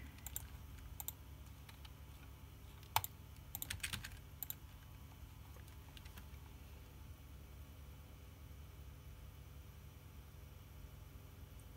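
Quiet, sparse keystrokes on a computer keyboard, a few short clusters of clicks over a faint steady hum, mostly in the first half.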